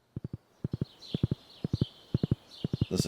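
A horse in the Stardew Valley video game trots with crisp clip-clop hoofbeats in quick groups of three, steady and close, ending with a brief burst of sound.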